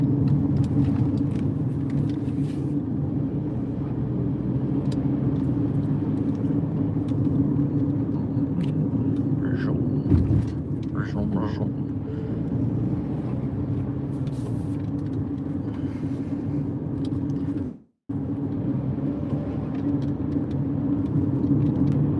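Inside a 2025 Ford Bronco Sport on the road, a steady low road and engine rumble fills the cabin, continuous and close, with one brief dropout near the end.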